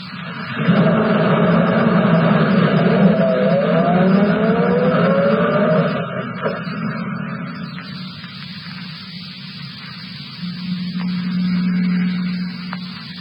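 A car drives in an old radio drama, a steady engine drone with a rising tire squeal early on, then a quieter rumble and a humming tone near the end, no voices over it.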